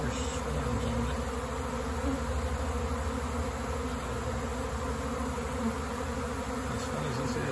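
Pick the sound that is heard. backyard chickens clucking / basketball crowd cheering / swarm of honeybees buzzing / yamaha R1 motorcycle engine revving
swarm of honeybees buzzing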